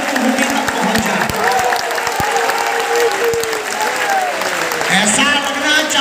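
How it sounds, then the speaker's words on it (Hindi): Loud, sustained applause from a large crowd at a religious gathering on stage, with cheering mixed in and a voice calling out over the clapping throughout. "जोरदार तालियों से 3 दिवस की चर्चा का स्वागत करिए आप सभी गड़गड़ाहट के साथ।"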